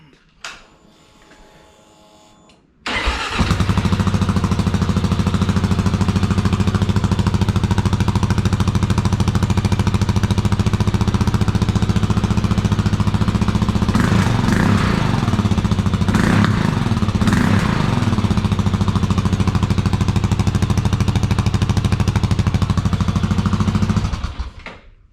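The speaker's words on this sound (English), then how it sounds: "So still quite a bit louder than the factory exhaust, but nowhere near as loud as the two short tube silencer plugs." A 2022 Kawasaki KLR 650 motorcycle with a Leo Vince exhaust, starting up and idling loud and close, a steady rapid thumping drone with a few brief revs, then cutting off.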